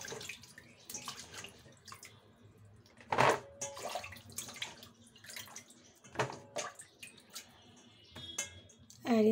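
Crabs being rinsed in a pot of water make quiet, intermittent splashes and sloshing. Small clatters and drips are heard up close, with no talking.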